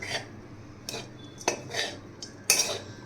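Sabudana khichdi with peanuts, sago and salt being stirred in a metal pan, a few sharp spoon scrapes and clinks at irregular intervals against a quiet background, no talk.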